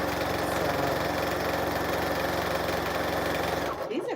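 A sewing machine stitches quilt blocks in a steady, close, rapid mechanical chatter that runs evenly before stopping abruptly near the end, with faint sound from a television in the background.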